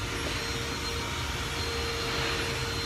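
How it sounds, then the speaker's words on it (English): A vacuum cleaner running nearby, a loud, steady broadband whine and rush that holds constant throughout without pauses or talking. "There's a vacuum going."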